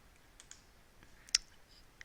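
A few light computer mouse clicks tick in a quiet room, one crisp prominent click in the middle with fainter ones around it.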